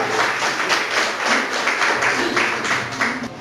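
A church congregation claps in rhythm for Jesus at a Portuguese-language evangelical service, with dense, steady, fairly close clapping in regular beats and no clear voice over it.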